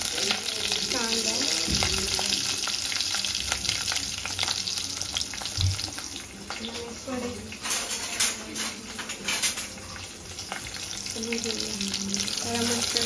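Onion fries in a pan for a prawn curry, a loud, steady sizzle that runs the whole time, with stirring clatter now and then and a voice talking over it.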